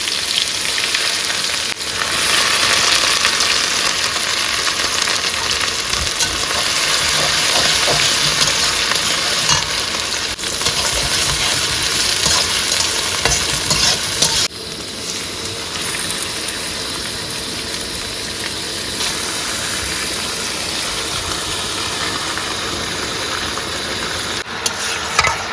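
Meat fries in a pan with spices and crushed garlic while being stirred, a loud, continuous close-up sizzle with scraping and stirring textures running the whole time, dipping slightly in level partway through.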